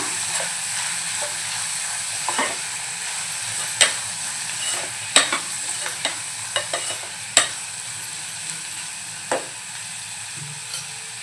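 Onion and chana dal frying with turmeric and Malvani masala, a soft continuous sizzle punctuated by sharp clinks of a spoon stirring against the pan at irregular intervals.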